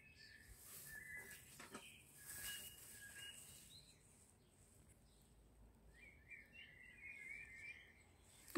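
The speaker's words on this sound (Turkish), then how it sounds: "Nasıl güzel kuşların sesi ötüyor değil mi?" Birds chirp and whistle in scattered, faint phrases against a quiet outdoor summer background while grape leaves are picked, with a longer trilling call near the end.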